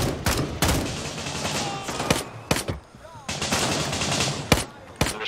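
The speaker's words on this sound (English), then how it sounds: "I'm just trying to aggro them and shoot them in the legs" Bursts of automatic rifle fire crackle in Gray Zone Warfare, loud and close, in rapid volleys broken by brief pauses and single sharp shots.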